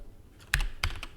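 Computer keyboard keys tapped to type an offset command in drafting software, a few distinct close clicks in quick succession over a quiet room.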